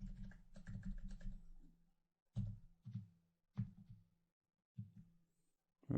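Computer keyboard keys clatter in short bursts as table data is entered, a rapid run of taps followed by several separate quick clusters with pauses between, close and fairly quiet.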